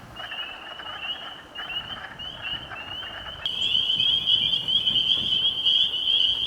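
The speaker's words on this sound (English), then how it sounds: "The telltale sign of spring is the quacking of the wood frogs in the pools, and of course, the peepers." A chorus of wood frogs and spring peepers calling outdoors at spring pools, high shrill peeping trills that grow louder and denser partway through, with softer quacking croaks beneath.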